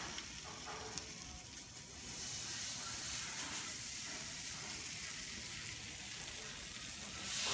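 Zucchini, haloumi and corn fritter mixture frying in olive oil on a hot plate, a steady crackling sizzle and hiss that swells slightly partway through, with no voices.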